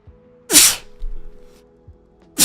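A close, sharp sneeze bursts out loudly, followed by a quieter pause and the loud onset of a second sneeze right at the end.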